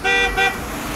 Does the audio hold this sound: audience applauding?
no